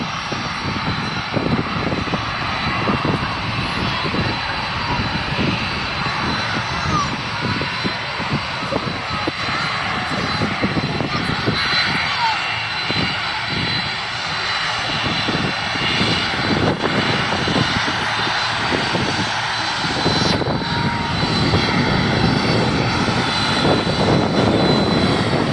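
A Boeing 747 jet lands at Manchester International Airport, its engines producing a loud, continuous roar that runs throughout, with a person talking intermittently over the noise.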